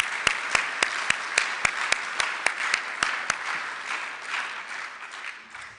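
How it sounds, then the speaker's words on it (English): Banquet audience at a student design competition breaks into applause, a dense wash of clapping with a few sharp louder claps standing out, fading toward the end. "give yourself another round of applause"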